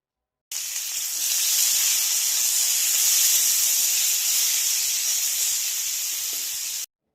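Star fruit pieces dropped into hot oil with panch phoron tempering spices burst into a loud, steady hissing sizzle that holds evenly for about six seconds, close and with no voices.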